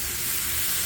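Bacon and Bob Evans maple sausage sizzle on a hot Blackstone portable griddle, a loud, dense, steady crackling hiss filling the whole moment with no talking.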